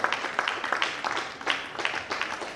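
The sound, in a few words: audience applause for the speaker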